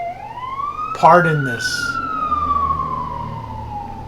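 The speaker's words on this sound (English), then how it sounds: "ridiculous sirens passing my room as I do this voiceover" Emergency vehicle sirens wail past outside a room, a long gliding tone with a rising harmonic sweep as they go by, while a person speaks over them briefly near the start.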